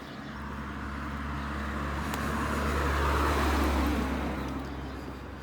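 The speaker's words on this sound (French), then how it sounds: "Ah, voiture." A car passes along a street. Its engine rumble swells to a peak about midway and then fades as it drives off, with no talking.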